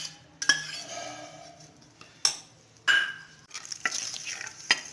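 Ghee hits a hot pan and sizzles, heard as loud bursts of frying hiss with metallic clinks of a spoon against the pan between quieter pauses, without any talking.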